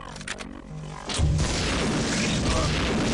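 A disruption grenade goes off in System Shock 2: a brief clicking lead-in gives way to a loud, close boom that rolls into a sustained, roaring blast wash.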